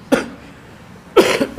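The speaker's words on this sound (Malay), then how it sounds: "Batuk pula tuan-tuan." During a lecture a man coughs twice, a single sharp cough followed by a louder double cough after a brief pause, close and clear over a faint room hum.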